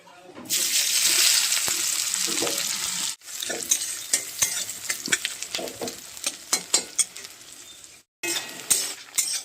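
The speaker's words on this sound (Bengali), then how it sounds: "এখন আমি এর মধ্যে পেঁয়াজ কুচিটা দিয়ে দেবো" Loud, steady sizzling of chopped onions hitting hot oil, with stirring and scraping crackles that rise and fall, briefly cutting out near the end.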